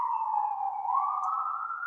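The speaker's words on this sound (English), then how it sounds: "there's a siren in the background" Emergency vehicle siren near a main fire route in Southern California's Inland Empire, a steady wailing tone slowly sliding upward, clear and continuous throughout, with no speech.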